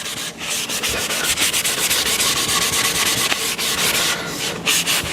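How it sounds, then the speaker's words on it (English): Steady scratchy rubbing of a sanding sponge back and forth over wood, close and continuous with a brief pause near the end. "I'll take our sanding sponge again, get it really polished up nicely, nice and smooth."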